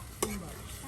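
Pieces of desi chicken fry in a pan for a curry, a quiet steady sizzle with one brief stirring scrape, no voices.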